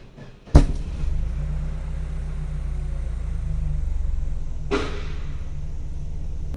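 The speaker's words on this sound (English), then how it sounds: "There is a bang in the exhaust pipe and some other noise makes itself felt." A sharp bang from the exhaust pipe rings out over a low, rumbling engine idle of an old Saab 93, followed a few seconds later by a second, softer bang.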